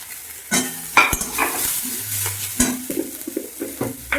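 Curry leaves, green chili, onion and chopped vegetables hit hot oil in a home kitchen pan, bursts of sizzling followed by a spoon scraping and stirring, with occasional clinks of utensil on metal, close and clear.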